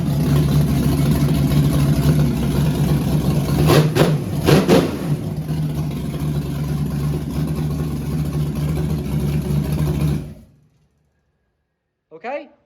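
A rebuilt 5.0 engine runs steadily close by with a low, droning rumble, rising in two brief revs partway through before cutting off abruptly into silence, followed by a faint short noise.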